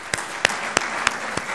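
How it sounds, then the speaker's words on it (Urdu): An audience at the Prime Minister's House welcome ceremony for javelin champion Arshad Nadeem applauds the national anthem singers: a few sharp, loud claps stand out at regular intervals over a low, steady bed of lighter clapping. "جنہوں نے آج قومی ترانے یہاں پر گائے ہیں، ان کے لیے مہربانی کر کے بھرپور تالیاں بجائیں"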